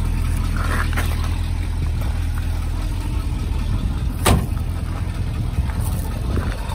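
A 1965 Ford Mustang GT Fastback V8 engine idles steadily with a low, even rumble, close by and unbroken, with a brief faint click partway through.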